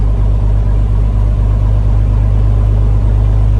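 An aircraft engine warming up before taxi holds a loud, close, steady idle with a deep throbbing rumble and an even pulsing beat throughout.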